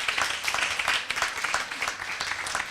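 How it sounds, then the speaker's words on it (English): Audience applause for a female university provost at a networking evening on women in top management, a steady, even wash of many hands clapping throughout the short stretch. "Let's give her a round of applause."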